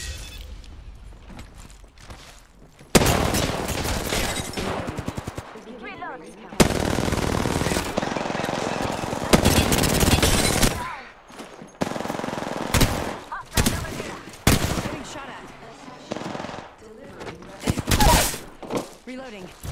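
Rapid bursts of automatic weapon fire in the shooter game Apex Legends, loud clustered volleys separated by short gaps, with a player's voice talking over and between the shots.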